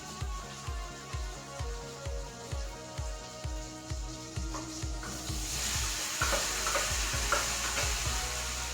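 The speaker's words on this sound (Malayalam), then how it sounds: "ഇതിലിട്ട് കൊടുത്തിട്ട് നമുക്ക് നന്നായിട്ട് ഒന്നിട്ട് കൂട്ടി യോജിപ്പിക്കാം" Cooked tapioca being stirred into a pan for Kerala-style butter kappa, with a steady rhythm of repeated scraping stirs over a soft sizzle that grows louder and denser toward the end, no talking.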